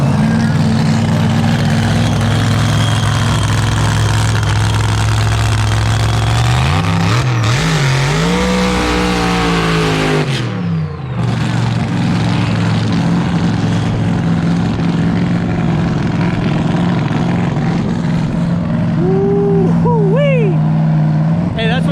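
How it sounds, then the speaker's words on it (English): A top fuel dragster engine roars and thunders loudly and continuously, its pitch sweeping up and down as it revs, with a brief rising whine near the end. "Top fuel dragster. They're saying probably a 5-second quarter mile at 230 some miles an hour."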